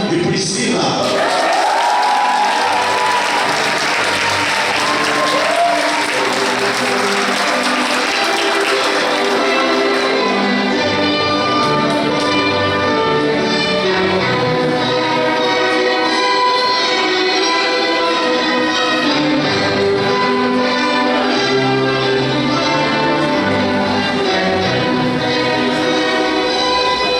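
Audience applause at a church wedding-renewal celebration welcoming a couple on their second anniversary, a steady wash of clapping with some cheering that runs continuously and loudly throughout, with music-like tones and voices mixed in.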